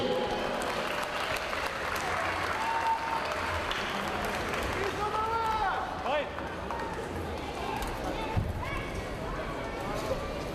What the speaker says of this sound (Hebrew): כפיים רבותיי.